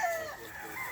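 A Sweater Boston stag, a young gamefowl rooster on a game farm, gives a short, near crow lasting about a second, with a rising then falling strained tone.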